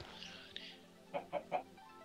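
Chickens cluck inside a crowded coop in the Minecraft video game, three short clucks in quick succession near the end, quiet and clear, following a faint, airy rustle.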